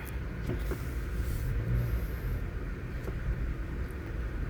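A car idles in slow street traffic on Wilson Street, Greenhills, San Juan, a steady low engine rumble with passing vehicle noise and faint distant tones around it, constant and moderately close.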